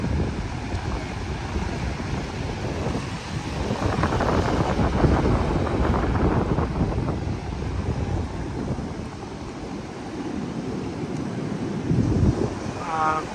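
Sea waves and wind on Cox's Bazar beach in the rainy season, a broad rushing roar of surf rolling in and washing up near the feet, swelling louder midway, with wind buffeting the microphone throughout.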